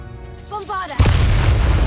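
A Bombarda spell detonates in Hogwarts Legacy combat as a single loud, deep boom that follows a brief rising magical whoosh, then leaves a sustained rumbling roar.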